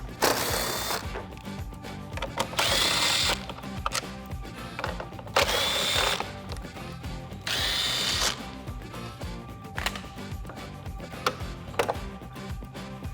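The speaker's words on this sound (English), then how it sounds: "I'm just going to take a 10mm socket and remove all of the bolts that hold this lower trim bracket on for the headlight" A power ratchet or drill with a 10mm socket backing out the headlight trim bracket bolts on a Ford F150, whirring in repeated short bursts close up, with clicks and handling noises between them.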